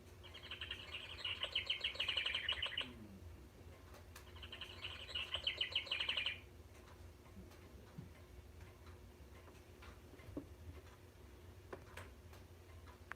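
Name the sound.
house wren song from bird clock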